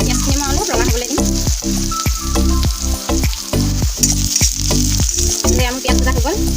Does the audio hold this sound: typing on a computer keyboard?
no